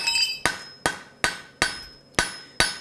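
Hammer blows on a hot high speed steel punch tip being forged, six sharp metallic strikes at a steady rhythm roughly every 0.4 seconds, close and clear with ringing decay and no talk.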